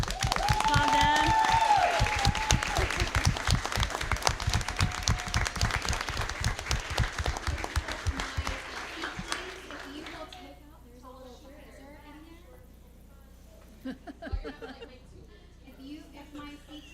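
An audience at a school board meeting applauds elementary teacher residents and their mentor teachers, with dense, loud clapping for about nine seconds that thins and fades into quiet room talk.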